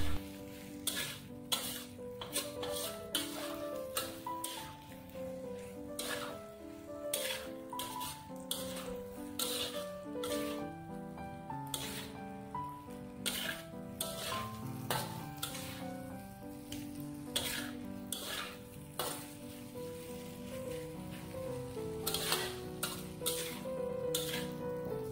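Rice cake pieces fry in sauce in a pan over high heat, giving a continuous sizzle for the whole stretch, broken by frequent sharp scrapes and clacks of stirring.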